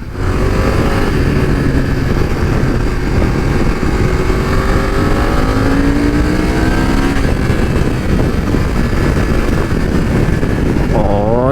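A BMW F900 XR motorcycle engine drones loudly and continuously while riding, with rising and falling rev sweeps over steady wind rush throughout.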